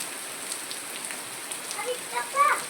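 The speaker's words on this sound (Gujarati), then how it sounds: "આજ પડે છે વરસાદ બાકી બજારમાં આજ પાણી જાય" Rain patters steadily on a surface in a Gujarati village, with a faint voice briefly audible near the end.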